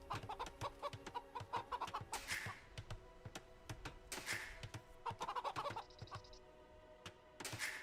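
Chickens in an Age of Empires style strategy game cluck repeatedly in short, clipped bursts, fairly close, with a few louder flutter-like rustles mixed in and no talk.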